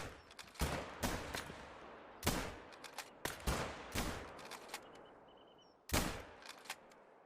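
Hunting rifle shots in theHunter: Call of the Wild on the Revontuli Coast map, several sharp separate cracks at irregular intervals with short echoing tails, fairly loud against a quiet outdoor background.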